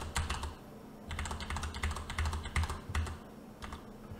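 Rapid clicking keystrokes on a computer keyboard as a credit card number is typed in, a close, steady run of taps with short pauses between bursts and no talking.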